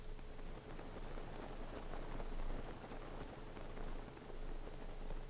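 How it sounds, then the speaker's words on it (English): Steady rain falling in the open world of Zelda: Breath of the Wild, a constant broadband hiss of drops with slight swells in loudness, no talking over it. "The rain is annoying."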